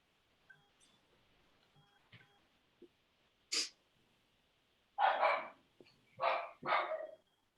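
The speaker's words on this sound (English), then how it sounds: "is that your dog?" A dog in a home barks several times during an online meeting, sharp, fairly close barks clustered toward the end after quieter scattered noises.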